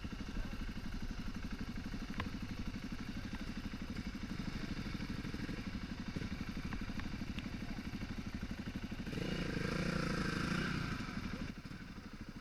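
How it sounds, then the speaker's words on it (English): A dirt bike engine labors on a steep hill during the 2016 Dakar, a rough, pulsing mid-pitched drone that keeps straining, then swells louder near the end before easing off, with faint background noise. "Even this dirt bike was having trouble getting going, stopping on this steep hill."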